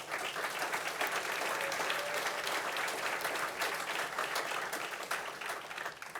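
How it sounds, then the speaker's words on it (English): A large audience at the 2024 Bellevue University Athletics Hall of Fame ceremony applauds the Class of 2024, a dense, steady wall of clapping that fills the room at full strength without pause. "once more, we'd like to give a big round of applause to the Bellevue University Athletics Hall of Fame Class of 2024"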